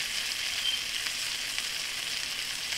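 Cod fillet frying in a very hot pan for cod Francaise, giving a steady, close, loud sizzle with crackling pops throughout and no talking.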